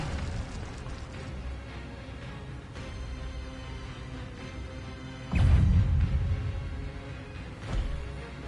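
A fire spell goes off in the Hogwarts Legacy video game as a sudden loud whooshing burst that lands over dense game music and effects, followed by a smaller flare-up about two seconds later.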